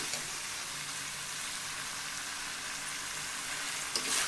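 Chicken and potato curry sautéing slowly in a pan on a low flame, a soft, even sizzle and gentle crackle holding steady, with a brief stir or clatter near the end.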